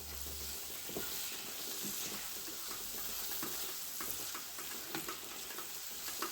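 Chopped onions for a curry sauce fry in a pan with a quiet, steady sizzle and hiss, broken by a few soft stirring scrapes, heard close and alone.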